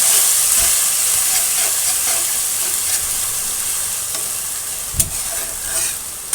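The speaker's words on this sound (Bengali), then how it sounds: "এটা আমি সুন্দর করে কষাই করে নিব তারপরে লবণ দিয়ে দিচ্ছি দিয়ে সুন্দর করে ভাজা ভাজা করবো" Spice paste frying with salt in a pan for an egg and papaya dish, with a steady close sizzle and hiss and a few sharp scrapes and clacks from the stirring spoon.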